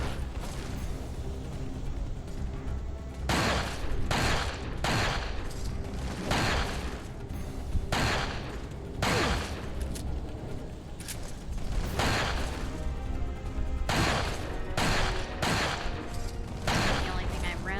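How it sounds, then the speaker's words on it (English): Magnum revolver gunfire in the Resident Evil 4 video game: a run of loud, heavy shots spread unevenly over several seconds, each with a booming decay, under sparse game sounds. "I just used the magnum on Shoe's legs"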